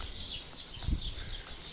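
Several turkeys gobble and cluck in a noisy burst, close by, amid a busy background of other birds.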